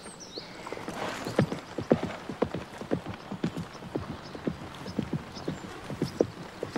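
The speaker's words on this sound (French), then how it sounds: "Tu vas le faire galoper, mais sans le pousser." A horse gallops under saddle with a saddle pad, its rapid hoofbeats thudding in a steady three-beat rhythm, close and clear, with a brief whinny near the start.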